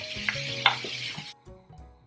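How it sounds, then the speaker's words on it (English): Diced carrots, onions and red peppers sauteing in a pan, with a soft sizzle and a few stirring scrapes close by that cut off abruptly partway through. "Saute another 2 minutes."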